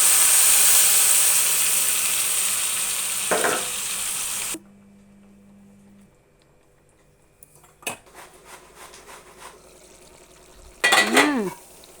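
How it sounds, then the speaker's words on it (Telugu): Stuffed baby eggplants going into a pan of hot oil with turmeric and curry leaves: a steady loud sizzle that cuts off, then quiet stretches broken by utensil clinks and a short burst of scraping and stirring. "స్టఫింగ్ చేసిన గుత్తి వంకాయ ఇందులో వేసుకోవాలి."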